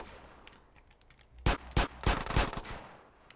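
Gunfire in the video game GTA San Andreas: a few sharp, loud shots around the middle, then a quicker burst of rapid firing, over a low background rumble.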